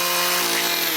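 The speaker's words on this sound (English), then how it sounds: "One man is using his power tool to transform decaying timber into a stunning display." A chainsaw carves decaying timber from a dead, centuries-old tree: a steady, loud, buzzing drone with a sustained engine hum that holds level and close through the whole second, no voices.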